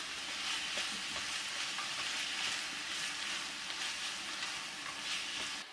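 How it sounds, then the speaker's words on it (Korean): Japchae glass noodles are stirred in a frying pan, with a loud, continuous sizzle and hiss close up and faint scraping from the stirring underneath. "중간중간 면도 이렇게 한 번씩 저어주셔야 돼요."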